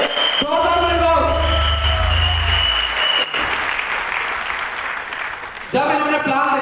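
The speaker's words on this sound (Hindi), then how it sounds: "जोरदार तालियां सर के लिए, जोरदार तालियां" Loud crowd applause for a guest at a speech event, dense clapping across the whole stretch with a voice and music-like tones briefly over it at the start and end.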